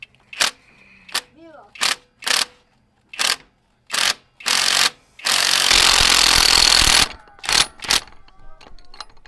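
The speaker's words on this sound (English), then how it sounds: "I'm gonna show you guys when I start pulling off that harmonic balancer." Puller being worked off a truck engine's harmonic balancer, heard as a series of short, loud bursts from a powered tool. One longer sustained run occurs in the middle, with near sounds and quiet gaps between the bursts.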